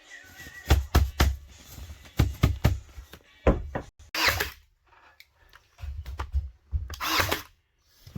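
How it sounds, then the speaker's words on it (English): Nails driven by hammer into pine tongue-and-groove boards in a gambrel loft, a series of sharp knocks in quick clusters with short pauses, fairly close and alone without talk. "Alright, I'm nailing this board on"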